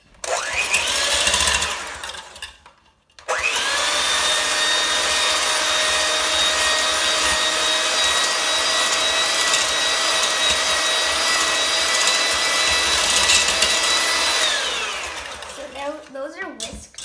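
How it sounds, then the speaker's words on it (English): Eggs being whisked for crepe batter with an electric mixer, a loud, steady motor whine running for about eleven seconds after a short burst and a pause, then spinning down at the end. "So we're gonna whisk our eggs together."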